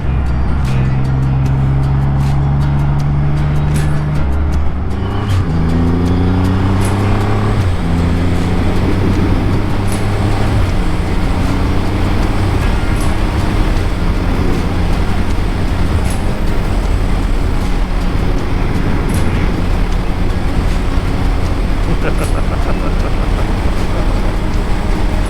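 A 2020 Triumph Rocket 3 GT motorcycle under way, its engine note rising through gear changes into a loud, steady roar mixed with heavy wind rush, close and continuous throughout.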